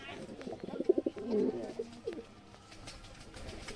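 Low, soft cooing from a pigeon feeding its chicks comes in a few murmuring bursts, close by, with faint rustling and background noise around it.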